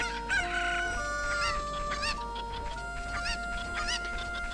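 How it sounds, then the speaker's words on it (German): Chickens from The Legend of Zelda: Ocarina of Time crow and squawk repeatedly, a series of loud wavering calls layered over a sustained musical backdrop, with no talking. "wir müssen ja immer noch diese Hühner einsammeln"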